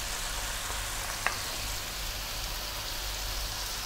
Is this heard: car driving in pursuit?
no